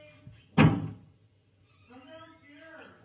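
A door slams once loudly near the start with a heavy thud, then a voice calls out faintly afterward in a quiet indoor setting.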